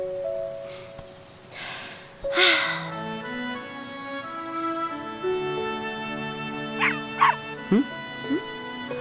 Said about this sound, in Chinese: 这里怎么会有小狗呢？